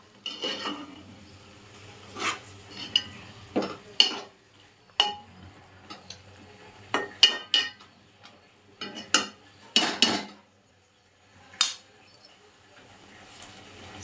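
Mushrooms and green chillies tossed into a pan for a mushroom curry, giving scattered sharp clinks and scrapes of utensil against the pan at irregular intervals, fairly close, with quiet gaps between.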